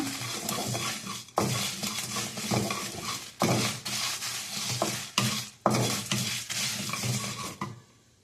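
Byadagi and hot red chillies roasting in a pan for mint mutton fry masala: a steady dry sizzle with a spoon repeatedly scraping and stirring against the pan, in close, loud bursts.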